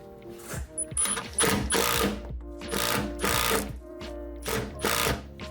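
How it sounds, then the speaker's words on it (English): A screwdriver tightens a rivet screw on a Jeep JK rear fender flare, giving a continuous run of rapid mechanical clicking and whirring pulses, close and fairly loud, with no talk. "you're gonna tighten it up, then loosen your screw"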